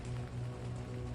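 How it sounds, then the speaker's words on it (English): Steady rain falling on a roof, an even close patter with soft low drumming, continuous and unbroken, with no voices over it. "Outside, the rain falls on the roof."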